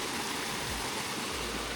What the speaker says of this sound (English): 3 waterfalls at the moment.